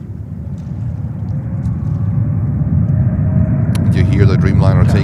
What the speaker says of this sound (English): Dreamliner taking off to Tashkent